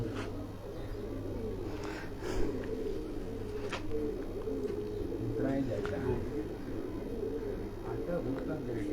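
Kamagar pigeons on a rooftop coo softly and continuously while people talk nearby over faint background hum.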